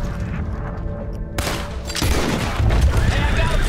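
Gunfire in Red Dead Redemption 2 breaks out in a sudden loud volley of rapid overlapping shots after a quieter opening, continuing as a dense, booming fusillade.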